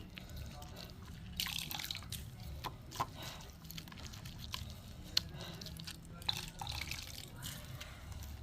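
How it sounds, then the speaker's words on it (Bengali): Water squeezed by hand from finely grated radish drips steadily in a kitchen while radish chops are prepared. The drips are faint and close, with soft splashes and a few wetter bursts over a low background hum. "এবার আমি জলগুলো চিপে চিপে নেব"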